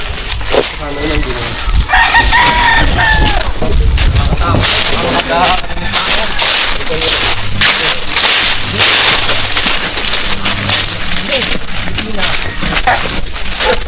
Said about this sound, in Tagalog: Daming manok ni sir.